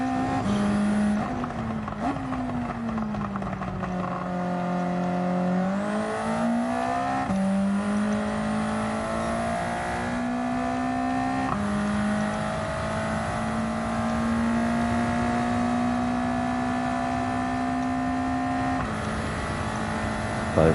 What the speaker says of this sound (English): Revving too much.